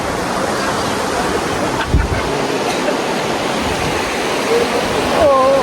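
Babai waterfall inside a cave, a loud, constant roar of falling water that fills the space without a break, heard close up.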